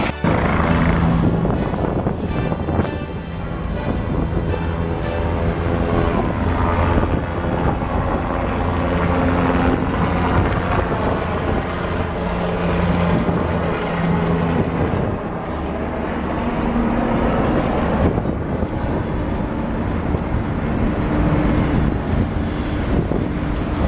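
Helicopters flying over New York make a continuous loud rotor drone, mixed with heavy wind buffeting on the microphone throughout, without any voices.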